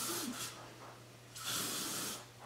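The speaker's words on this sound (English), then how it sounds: "So let's spray this side." Hairspray aimed at freshly curled hair, two short hissing bursts from an aerosol can, the second longer, close and fairly quiet with a pause between.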